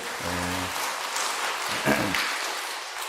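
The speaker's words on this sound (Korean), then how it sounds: "박수해 주세요." A church congregation at a Sunday worship service claps in a dense, even patter, with brief voiced sounds over it early and midway.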